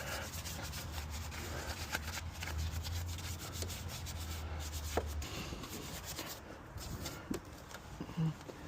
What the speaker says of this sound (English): doing this just to test this towel out more than anything